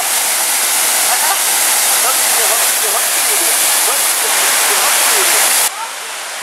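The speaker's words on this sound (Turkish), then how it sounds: "Mustafa Kemal Paşa'daki suyuşlu şelalesine bir de buradan bakalım. Bakın ağaçların arasından. Ne kadar güzel görünüyor. Ne kadar güzel akıyor." Suuçtu waterfall at Mustafakemalpaşa roars in a loud, steady rush of falling water that fills the whole clip, dropping slightly in level near the end.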